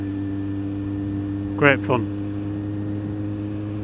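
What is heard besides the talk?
Kawasaki Z750R motorcycle being ridden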